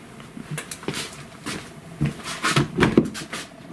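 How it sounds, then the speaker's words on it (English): Trying to open the door of a 2017 Hyundai Santa Fe Sport: a run of close, hollow clunks and handle rattles, quiet at first and then louder and more frequent near the end, with no voices. "I can't get this door open."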